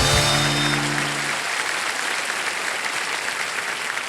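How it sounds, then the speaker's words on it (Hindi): Studio audience of a Hindi television quiz show applauding: a dense, loud burst of clapping that holds steady throughout, with a brief musical tone fading out at the start. "एक बार ताली हो जाएगी"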